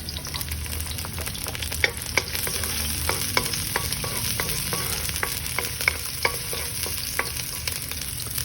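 Onions stir-frying in a hot pan for a dish of camote tops with oyster sauce, a constant close sizzle with repeated sharp clicks and scrapes of a utensil tossing them, no voices.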